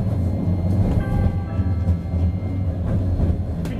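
A Hiroshima Electric Railway Line 1 tram rolls along its rails with a steady low rumble, faint squealing and occasional clacks, heard from inside the car.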